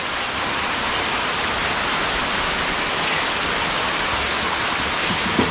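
Rain falls heavily and steadily, a loud, even wash of noise throughout, during a monsoon downpour at Naringre, Devgad.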